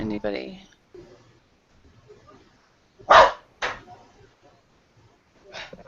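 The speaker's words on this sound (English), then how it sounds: "Sorry about my dog. He decided to make his presence known." A pet dog gives a few sharp barks indoors, one loud close bark followed by a quieter second one and another later, with speech from a person before and between.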